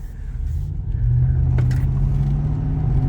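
A car accelerates nearby while racing an Acura, its engine a low steady rumble that swells and holds as it pulls away, with no talk.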